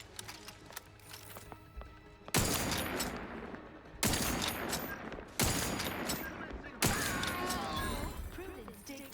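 Gunfire in The Outer Worlds 2: four loud, sharp shots spaced about a second and a half apart, each with a decaying tail, after a quieter stretch of background sound and faint voice.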